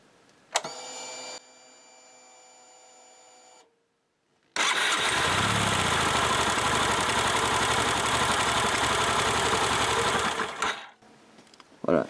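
A Yamaha YBR 125 motorcycle engine cranks and catches, then settles into a loud, steady idle close by that runs for about six seconds before it is cut off.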